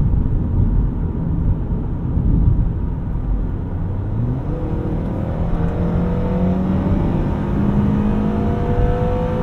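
A 2013 Acura TSX Wagon's engine revs up toward 7,000 RPM from inside the cabin, a rising drone climbing steadily in pitch through the gears, loud and close with road noise beneath.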